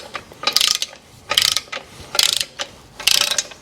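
A hand ratchet tightens clutch bolts in a crisscross pattern on a car clutch install, giving four quick bursts of rapid metallic clicking with short pauses between them, close and clear with no talk.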